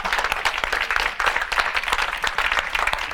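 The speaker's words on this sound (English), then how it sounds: "I want us to stand and give ourselves a round of applause" A standing audience at a closing ceremony gives itself a round of applause, a thick, continuous burst of clapping with occasional sharper individual claps, loud and sustained throughout.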